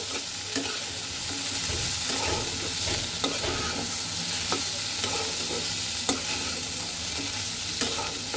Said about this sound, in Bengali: মাছটাকে কষিয়েছি এখন আমি ধুয়ে রাখা কাঁঠাল বিচিগুলো দিয়ে দেব এবার এটাকে একটু সুন্দর মতন কষাবো